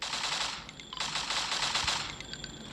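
Rapid automatic gunfire from the mobile FPS game Special Force M, several close, dense bursts of shots in quick succession with brief gaps between them.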